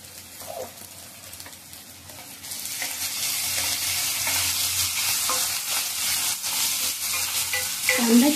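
Onions fry with salt in a pan for vangyache bharit, a sizzle that starts quiet and swells into loud continuous crackling after a few seconds, with occasional stirring clinks and no voices.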